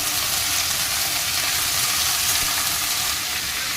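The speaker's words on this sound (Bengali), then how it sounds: "মূলোগুলোকেও তেলের মধ্যে ছেড়ে দেওয়া হচ্ছে তো দিয়ে ভালো করে একটু নেড়ে ছেড়ে নেওয়া হচ্ছে" Cut radish fries in hot oil while it is stirred. A dense, even, loud sizzle and hiss runs steadily from start to finish, with faint stirring beneath it.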